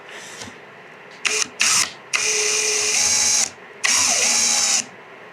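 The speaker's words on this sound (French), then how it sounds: "Je vais pas visser complètement, juste maintenir" A power drill drives screws into a wooden cabinet panel for a bathroom vanity unit, loud and close. It runs in short bursts first, then makes two long whirring runs with a brief pause between them.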